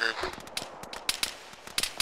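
Rapid bursts of gunfire in the military video game Arma, played with the ShackTac group: a dense run of sharp shots, some close and loud, others more distant, crackling across the whole stretch.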